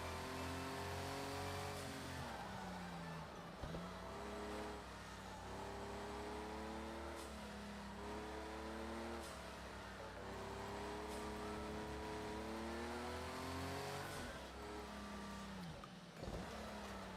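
Race car engine in Project Cars 2 revving high and climbing through gears in repeated sweeps, dropping at each shift or brake, loud and continuous with no speech.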